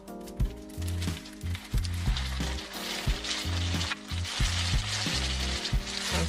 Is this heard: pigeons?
no